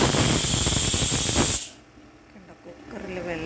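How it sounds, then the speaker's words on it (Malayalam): A pressure cooker on a home stove cooking white chickpeas for curry lets off a loud, steady hiss of steam that cuts off abruptly partway through, leaving quieter kitchen sounds behind. "കുക്കറിൽ വെള്ളക്കടല വെച്ചേക്കുക കറി വയ്ക്കാൻ"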